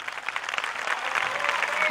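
An outdoor evening audience at a poetry reading in Modena's Giardini Ducali claps steadily, a close, dense round of applause that swells slightly toward the end.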